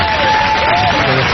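Audience applause rolls through a stand-up comedy set, a steady dense clatter of clapping with crowd noise layered over it, close and fairly loud from start to finish.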